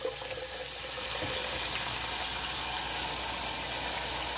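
Cold tap water runs steadily into a pot for two servings of noodles, a continuous close rush of pouring water that holds the whole time without pause.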